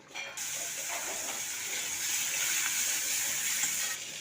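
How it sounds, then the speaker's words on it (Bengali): Prawns fry in hot oil in a wok, giving a continuous, even sizzling hiss heard up close for a few seconds with no talk. "চিংড়ি মাছটাকে ভেজে নেব।"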